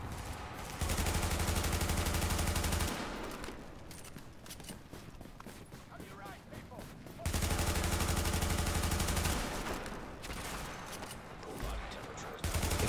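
Bursts of rapid gunfire from the video game The Division crackle in clustered volleys between steadier stretches of game sound, with some talk mixed in.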